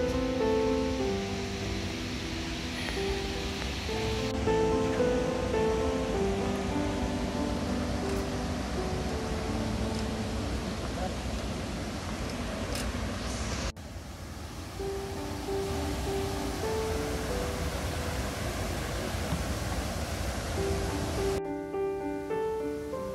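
A broad, steady rushing roar of water falling about 48 feet over a sandstone cliff continues throughout, with faint musical tones layered in the background.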